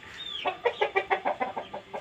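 Roman Aseel chickens, a rooster with a red hen, cluck in a rapid rhythmic run of about a dozen close, loud notes after a brief rising call.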